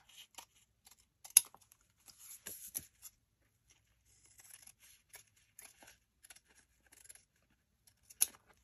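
Scissors trimming excess fabric off a craft piece, faint scattered snips and soft rustles heard close in an otherwise quiet room, with a sharper cut near the end.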